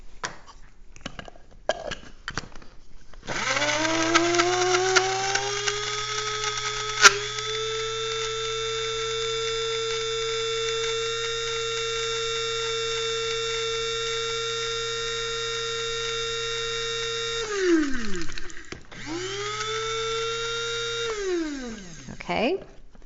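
A blender grinds sesame seeds into oil-free tahini with a steady high motor whine that runs for a long stretch, stops, then starts again for a shorter burst, with a few handling knocks before it begins.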